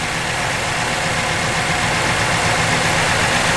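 A 1966 Chevrolet Chevelle SS engine idles steadily with an even low rumble and constant mechanical hum, close by and unchanging throughout.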